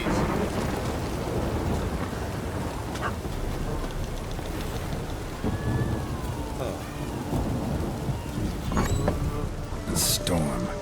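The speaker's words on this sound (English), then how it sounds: "A storm, damn it." Thunderstorm with steady heavy rain in The Witcher 3: Wild Hunt, a constant dense downpour with rumbling thunder and a sharper crack near the end, while voices talk over it.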